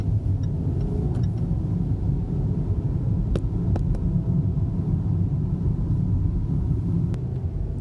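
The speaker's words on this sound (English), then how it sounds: "This vehicle does accelerate pretty nicely." A 2020 Land Rover Discovery Sport S accelerating, a steady low engine rumble and road hum from inside the cabin with a few faint clicks.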